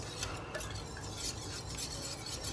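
A protein rice cream mixture being stirred vigorously in a bowl or pan, with a soft continuous scraping and swishing and faint clinks of the utensil, quiet and close.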